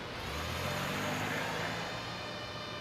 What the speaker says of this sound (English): I love how you can hear the car driving off